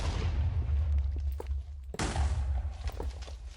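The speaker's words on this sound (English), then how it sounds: "An explosion happens next to the Pearl," Minecraft TNT blasts set off beside an ender pearl in a pearl cannon: several booming thuds in quick succession, with a sharp louder crack near the middle, close and punchy, no voices.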